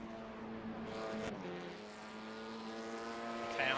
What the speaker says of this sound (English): That's an engine blown from the sound of it.